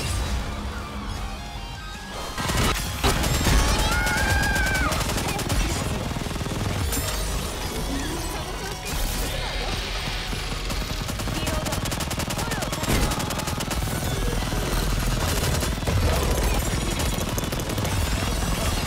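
The Aegis Cannon in the video game Goddess of Victory: Nikke fires with loud, dense, rapid blasts and crashes during a boss fight, sustained almost throughout with a brief lull near the start, and a voice occasionally cuts in over it.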